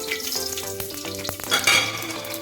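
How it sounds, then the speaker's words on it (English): Whole spices (cardamom, pepper, cumin, cloves, star anise, bay leaves) sautéing in a pan for coconut rice, busy close crackling and popping with scraping stirs, louder in the second half. "Saute well the masalas"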